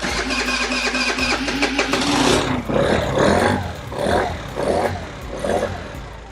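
A QMB139 scooter engine fitted with a big bore kit cranks and catches, then runs with a rough, uneven idle that swells and dips in several revving pulses, close and loud.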